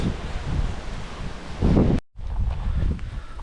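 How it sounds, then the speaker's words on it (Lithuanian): Gusty wind blows outdoors on a rural property after a storm, a loud, continuous rushing roar buffeting the microphone, with leafy rustling and a brief surge near the middle. "Tai vat, vėjas dar biški pučia."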